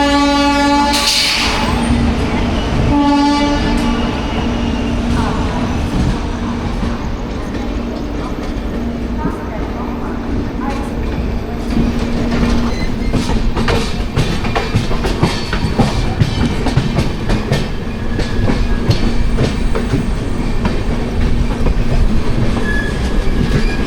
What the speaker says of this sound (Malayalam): ആ വരുന്നത് EDLSൻ്റെ 37308 ആണല്ലോ. അപ്പോൾ ഇത് ചെന്നൈ സെൻട്രൽ ഭഗത് കി കോട്ടി എക്സ്പ്രസ് ആണ്.